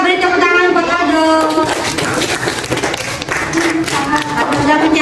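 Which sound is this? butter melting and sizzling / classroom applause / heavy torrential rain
classroom applause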